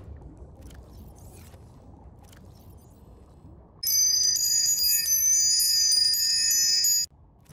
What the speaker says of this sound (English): it's gonna be really hard to play wind chimes underwater. Just kind of makes more of a blooping noise.